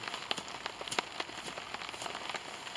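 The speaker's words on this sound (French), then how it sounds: "La pluie est toujours là." Rain falls on a tarp at a rainy bivouac camp, an irregular patter of drops tapping the fabric close by, with sharper individual hits over a continuous soft hiss.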